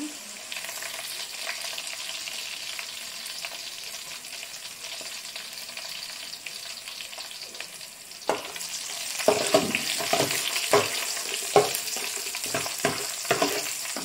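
Sliced onions fry in hot oil for mutton dum biryani, a steady close sizzle that later turns into louder bursts as a spoon stirs and scrapes through the pan.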